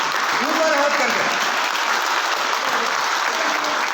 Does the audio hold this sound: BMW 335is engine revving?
no